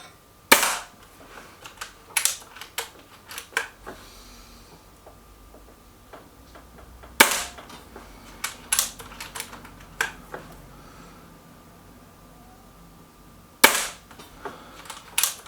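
Stoeger XM1 Scout air rifle firing pellets at a target range: three sharp, loud cracks spaced about six seconds apart, with lighter mechanical clicks and handling taps between the shots.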